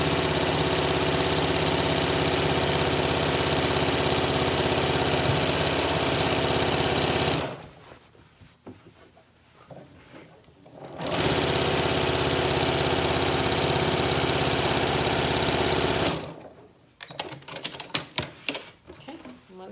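A sewing machine stitches a seam while a Yup'ik qaspeq is assembled, running in two long, steady, loud bursts of rapid mechanical chatter, with quiet handling noises in the pauses between them.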